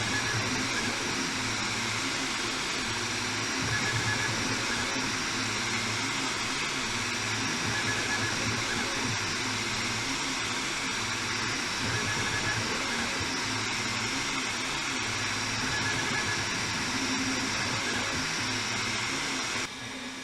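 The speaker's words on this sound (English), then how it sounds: "I don't know if you can get an idea of how fast this thing's printing from over there" A Creality K1 Max 3D printer printing at high speed gives a steady mechanical whir with humming motor tones and rapid fluttering movement, continuous and fairly loud at close range throughout.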